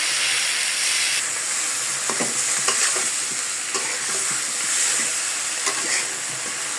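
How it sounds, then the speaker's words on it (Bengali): Garlic paste, chili powder and green chilies are stir-fried with already fried vegetables in a pan, a steady close sizzle and hiss with repeated scraping and stirring strokes of a spoon, no voices. "মশলাটা একটু কষায় নিলাম"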